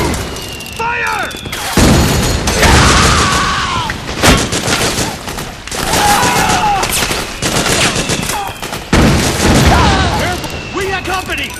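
Heavy gunfire and explosions in the video game Metal Gear Solid 4 during a battle, with bursts of rifle fire, booms and shouted soldier voices layered over each other in a loud, continuous clash.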